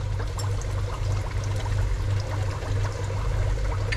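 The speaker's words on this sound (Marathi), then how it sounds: "गरम पाण्यात आपण जरा थंड पाणी टाकूया" Cold water pours in a steady stream into hot water with a low bubbling rumble underneath, continuous and close for a few seconds.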